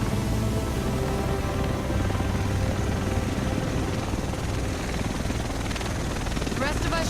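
Helicopter arriving in The Division video game, set in Manhattan, its steady rotor and engine roar filling the scene at constant loudness while voices speak over it.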